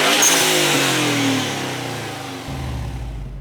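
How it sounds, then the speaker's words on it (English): A Subaru WRX STI fitted with an HKS Super SQV4 blow off valve revs loud and close, the engine note falling away steadily before settling back toward idle; no one speaks. "so let's give it a few revs."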